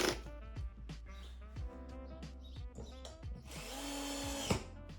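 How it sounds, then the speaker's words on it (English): A cordless screwdriver driving screws into an IKEA PAX wardrobe, heard as short whirring motor bursts with clicks and handling noise, fairly quiet and close, ending in a longer buzzing run. "And for all the build I'll be using this screwer."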